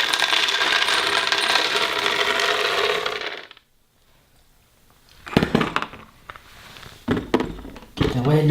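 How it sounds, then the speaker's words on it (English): Whole almonds poured into a Vitamix or Blendtec blender container make a dense, steady rattling clatter for about three seconds, then stop, followed by a few sharp knocks and handling noises. "first, we're going to go ahead and add the almonds"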